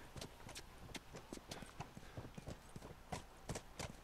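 A horse's hooves clip-clop in a quick, continuous trot in The Last of Us Remastered, with steady, evenly spaced footfalls and a faint neigh.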